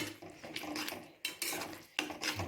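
Pav bhaji being mashed with butter in a pan, a masher or spoon scraping and clanking against the metal in quick, uneven strokes, close by with no talking.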